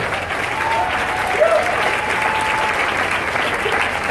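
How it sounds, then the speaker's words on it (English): Sustained audience applause at a Boston business event, a dense, steady wash of many hands clapping at even loudness throughout, with a faint voice briefly audible above it. "Henry's clapping extra loud right now"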